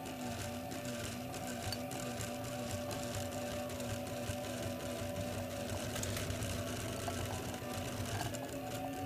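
Mini Kossel delta 3D printer laying down its second layer at faster speed, a quiet, steady mechanical whir with faint stepper-motor tones throughout and no talk.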